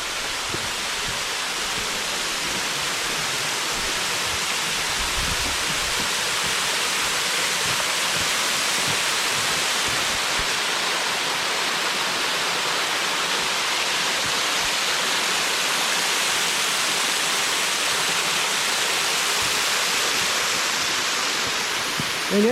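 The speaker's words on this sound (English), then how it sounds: "Oh, this is the waterfall here. It's called the St Croix Falls." St Croix Falls, a waterfall, roars as a loud, unbroken broadband rush heard up close for the full stretch, with no voices over it.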